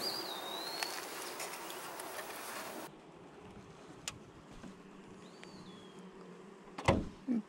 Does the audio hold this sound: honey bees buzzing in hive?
yes